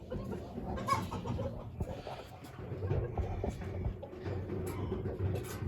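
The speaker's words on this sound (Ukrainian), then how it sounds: "Оце гусі." Geese and other poultry calling inside a poultry shed: a busy, continuous chorus of honks and clucks at moderate distance, with no voices.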